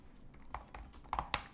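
Keys clacking on an Acer Swift 3 laptop keyboard: a short, close burst of sharp clicks, sparse at first and then a quicker cluster of firmer taps, with no voices.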